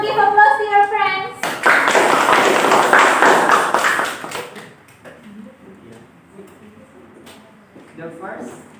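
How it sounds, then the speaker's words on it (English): Classroom applause for a group of students coming up to present, a burst of clapping lasting a few seconds, with a teacher's voice before it and quieter chatter after. "give applause to your friends"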